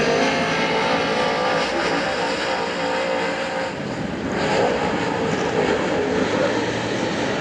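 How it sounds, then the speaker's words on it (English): Late model sportsman race car, number 8F, rolling onto Hagerstown Speedway, its engine a loud sustained drone that swells slightly midway, with a broad roar of noise throughout. "car number 8F, making his way onto the Speedway"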